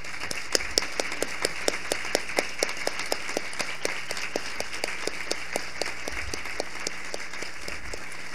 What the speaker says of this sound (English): Please stand so everybody can see you.